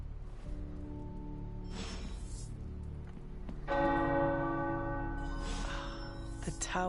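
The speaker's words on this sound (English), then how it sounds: "The tower bells are ringing." Tower bells ring out in a sustained, resonant peal, with a few strikes early on and a fuller, louder clang joining partway through, their tones hanging and overlapping with no talking.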